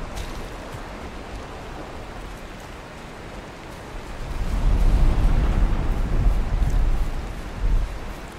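Heavy rain falls in a stormy scene in the video game Valheim, a steady broadband wash that swells noticeably louder about halfway through, with deep rumbling low end and no talking.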